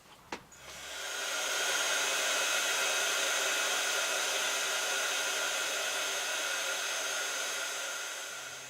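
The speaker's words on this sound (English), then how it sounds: "I will heat that with my heat tool" A handheld heat tool blows hot air over a handmade card, starting after a soft click and settling into a loud, steady whooshing drone that holds evenly for several seconds before easing slightly at the end.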